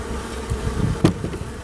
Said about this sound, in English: So you can see some of the bees that were foraging are just flying around